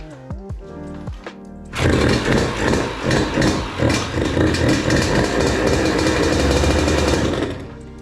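A revived childhood dirt bike engine bursts to life after a few light clicks and knocks, then revs loudly and roughly up close, a steady buzzing snarl that holds for several seconds before dropping back.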